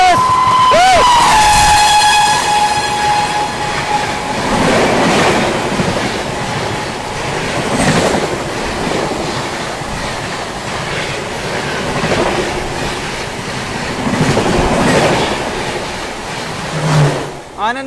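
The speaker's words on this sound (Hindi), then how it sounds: "पीछे से अपने अमृत भारत एक्सप्रेस को ओवरटेक करने आती है 22416 आनंद विहार भागलपुर गरीब रथ एक्सप्रेस" The 22416 Anand Vihar–Bhagalpur Garib Rath Express overtaking alongside, heard from a moving train: a loud continuous rumble with repeated clattering wheel beats and a horn blast at the start, with faint talk.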